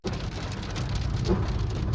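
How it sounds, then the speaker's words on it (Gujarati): Steady rain drums on a car's roof and windshield, a dense close patter that carries on without a break. "વરસાદ આ ગયા હે, કાચમાં વરસાદ આવી ગયો હે"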